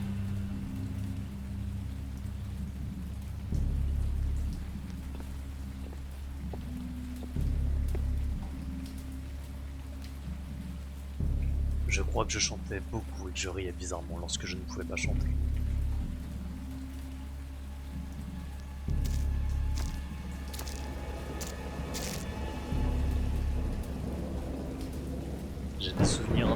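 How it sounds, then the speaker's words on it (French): Steady rain falls throughout with several loud thunder rumbles rolling in at intervals, while someone speaks French over the storm. "J'ai des souvenirs indistincts d'une grande tempête"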